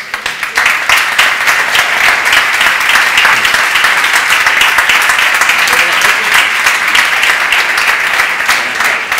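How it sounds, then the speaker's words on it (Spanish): Audience applause for Juan Ignacio Zoido of the Partido Popular as he is welcomed onto a Spanish TV set, dense steady clapping filling the whole stretch at a loud, even level after a brief start. "Un aplauso."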